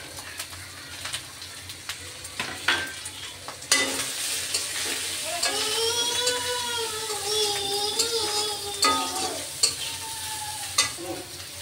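Prawns fry in a pan with garlic paste, cumin paste, turmeric, chilli, coriander and salt. A steady sizzle runs under intermittent stirring clatter, and bird calls chirp nearby midway through.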